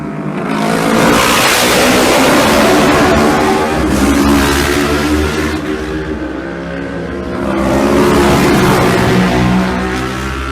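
Supertwin racing motorcycles at the Isle of Man road races, loud engines rising and fading as machines pass close, with a second bike sweeping by later.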